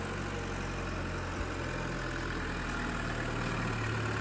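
2019 Chevy Trax with a 1.4 liter turbo engine, front wheel drive, 32,000 miles and collision damage front and rear, idling as a steady close hum with a faint ticking, alone without talk.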